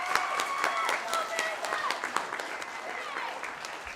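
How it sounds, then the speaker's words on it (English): An audience at a year-end school concert applauds with lively, scattered clapping, and some voices are audible beneath it. "Can we give another round of applause?"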